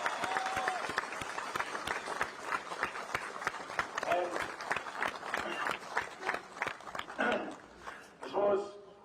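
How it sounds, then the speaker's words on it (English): A crowd at a senior football championship final applauds a club legend, irregular clapping and thudding footsteps close by with a voice speaking over the noise. "I just want to give a a round of applause for a club legend, Don Murtagh"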